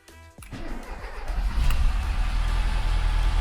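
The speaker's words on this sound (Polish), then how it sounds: "Odpalamy po wymianie oleju." A car engine cranks briefly, catches, then settles into a steady, rough idle right after an oil change, loud and close with no talking.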